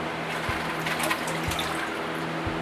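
Tap water runs steadily into a washing tub for high-tunnel winter lettuce, a continuous broadband splashing hiss with faint periodic low pump thumps, close and alone.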